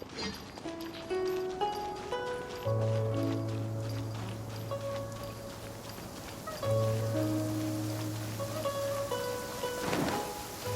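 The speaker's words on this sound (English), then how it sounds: "Rain! I hate rain." Rain falls in the video game Genshin Impact as a soft, steady patter under gentle game music, with a brief louder rumble near the end.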